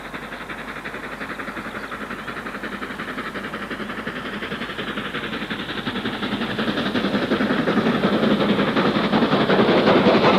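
Steam locomotive 70028 Royal Star hauling a mixed parcels train southward on the Shap line, a steady rapid chuffing exhaust with rolling wheel noise that grows louder as the train approaches.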